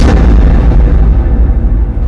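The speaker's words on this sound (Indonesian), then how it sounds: "Tak berapa lama kemudian ada bombardir dari Belanda. Ya, meledak kapal kita." A ship blowing up under Dutch naval bombardment, heard as one heavy, deep rumbling blast that fills the whole moment and rolls on close and loud without a break.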